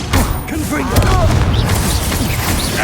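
Fiery Confringo explosion spell blasting in Hogwarts Legacy combat, a loud booming burst over dense battle effects and game voices, with swooping magical whooshes and thuds throughout.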